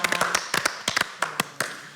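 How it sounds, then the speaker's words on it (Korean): A brief round of scattered applause from a small group, light irregular claps without any voices. "박수 한번 보내드려야 됩니다"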